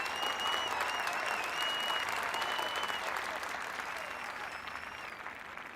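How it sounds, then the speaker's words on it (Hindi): Sustained audience applause fills the room for a contestant in a TV cooking-competition round, steady and dense throughout, thinning slightly toward the end, with faint voices under it. "अर्चना शुक्ला, तालियां।"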